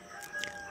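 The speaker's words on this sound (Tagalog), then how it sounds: "May manok kasi dito eh." A rooster crows in the background, fairly faint and brief, over steady ambient noise.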